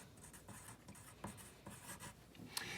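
Pen or pencil scratching out words on paper for a second-grade perspective lesson, a close, soft run of short strokes and scribbles with brief pauses between them, no voices.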